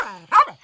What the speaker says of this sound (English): and Lucky started barking.